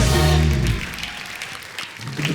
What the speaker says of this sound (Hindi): तो एक बार हाउसफुल 4 की पूरी स्टार कास्ट के लिए जोरदार तालियां।